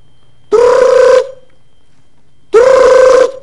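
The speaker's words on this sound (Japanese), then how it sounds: "電話が鳴った。" Two long electronic telephone rings from the PlayStation horror game Inagawa Junji Kyoufu no Yashiki, each tone lasting under a second and separated by a pause, loud and clear over a faint low hum.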